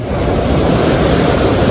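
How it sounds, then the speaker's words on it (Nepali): The swollen Kali Gandaki river rushes after a night of rain, a loud, dense, continuous roar of fast water heard close up, mixed with some wind buffeting and no voices. "हेर्नु न साथीहरू, कालीगण्डकी नदी कति ठुलो।"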